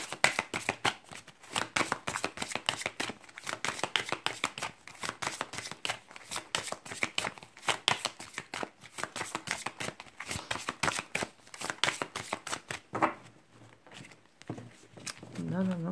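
Oracle cards are shuffled by hand up close in a long run of rapid, crisp riffling flicks. A short pause and a few handling sounds follow near the end.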